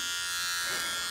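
Cheap electric razor buzzing against the skin of a leg, a brief continuous high-pitched motor whine.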